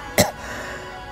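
A single short, sharp cough voiced by a narrator telling a story, one abrupt burst followed by quiet room tone.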